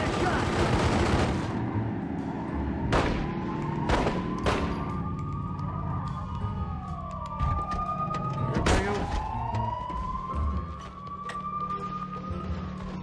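Gunfire in a Godfather II video game car chase: repeated sharp shots crack over a steady engine drone and rising and falling siren-like tones, with game sounds continuous throughout.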